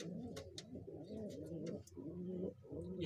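Pigeons coo in low, continuous throaty rumbles, close by, with faint chirps in the background.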